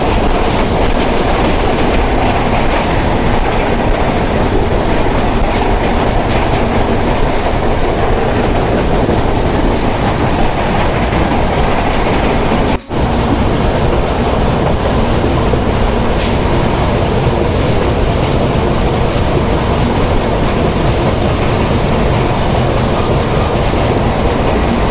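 The Padma Express passenger train between Sirajganj and Dhaka rumbles loudly and without a break, its wheels clattering in a continuous clickety-clack over the rails.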